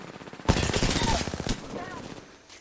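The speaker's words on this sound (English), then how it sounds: "The enemies are shooting at me." Enemy gunfire in a video game bursts out in rapid automatic volleys, loud and close at first, then thinning into scattered shots, with voices talking over it.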